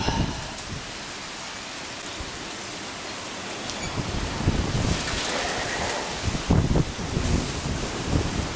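Strong wind gusts buffet the microphone during a night storm with rain and hail, a dense roaring rush that swells louder toward the end, with no voices.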